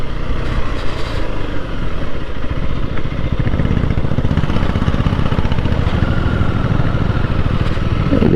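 A motorcycle rides along a dusty rural road on the way to a village temple, its engine droning steadily and loudly with constant rumble and wind throughout, no one speaking.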